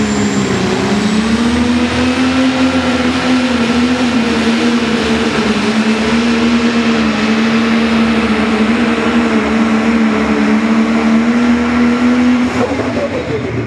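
A loud, steady pulling-tractor engine roars on without a break while hauling a sled at a tractor pull, straining and holding its pitch with a slight rise near the end.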